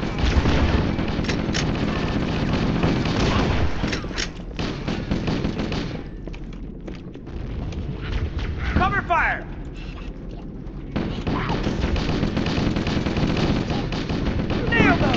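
Bursts of automatic gunfire and booming blasts in a Halo battle, loud and dense, with voices talking over the shooting and a brief lull midway before the firing resumes.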